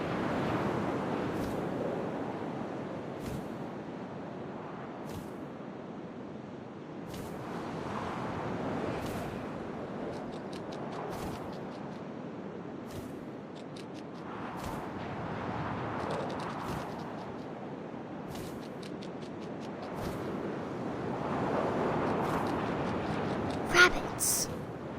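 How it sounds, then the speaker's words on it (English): Wind in the video game What Remains of Edith Finch, a steady soft rushing gust that swells and fades across the scene, with faint scattered ticks on top. "First, all I heard was the wind"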